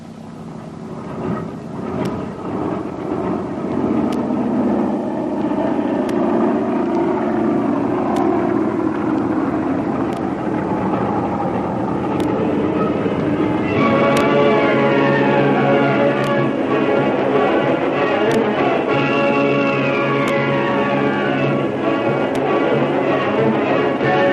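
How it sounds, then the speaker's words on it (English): A big passenger airliner takes off down a long concrete runway in a radio drama, its engine roar building steadily into a loud sustained drone with rising whining tones and no talk. "Down the long concrete runway, up into the air, the big passenger airliner takes off"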